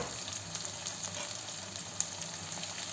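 Chopped cabbage, carrot, tomato and capsicum, added to onions, green chillies and Maggi noodles, fry and get stirred in a pan, a steady close sizzle with light scraping stir sounds and one sharper clack, no talking.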